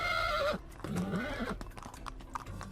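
A horse in a large corral gives a loud whinny, and its hooves shuffle and thud on the ground as it moves around. The neigh dominates the first half second, and a low snort and scattered hoof sounds follow.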